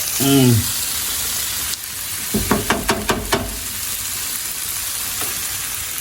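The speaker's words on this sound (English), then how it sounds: "This corn has been cooking for maybe about 5 to 10 minutes, but look on a relatively high heat." Santa Fe style creamed corn cooks in a pan on relatively high heat with a steady close sizzle, broken by a short run of rhythmic stirring or scraping clicks; a voice is heard briefly at the start.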